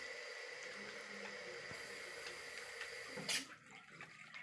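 A bathroom tap runs steadily while someone washes their face, a soft constant hiss of flowing water that ends with a brief splash and then quiets.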